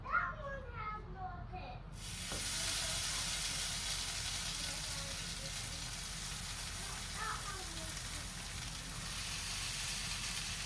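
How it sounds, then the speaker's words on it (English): Food sizzles in a frying pan stacked on a second pan over a home stove. A steady, close hiss starts abruptly after a couple of seconds and continues throughout, while children's voices chatter faintly in the background. "There's the sizzle."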